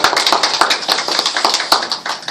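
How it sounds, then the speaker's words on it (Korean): A small audience breaks into applause at a lecture, steady, brisk clapping from many hands, close and loud for a couple of seconds. "박수 한번 치야 된다."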